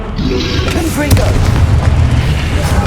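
A Confringo blasting spell from the Hogwarts Legacy video game goes off as a continuous heavy boom with a rumbling low roar throughout, loud and dense, while a voice speaks over it.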